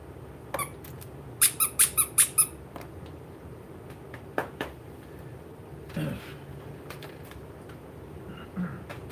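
A quick volley of five sharp squeaks from squeaky toy rockets, with a few scattered softer squeaks and light handling noises afterward in a quiet room.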